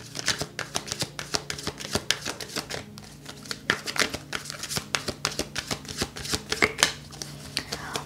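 Tarot cards are shuffled by hand in a quick, irregular series of papery riffles and taps, close and fairly soft, with a brief pause midway and no speech.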